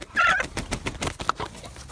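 Chickens and a rooster on a farm give short, close clucks and squawks in a chaotic burst.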